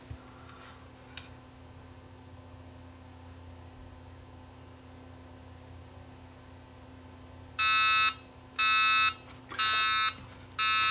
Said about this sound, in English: It'll start to buzz.